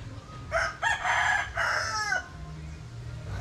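A chicken gives a few short squawking crows and clucks in quick succession, fairly close, then falls quiet over a low background hum.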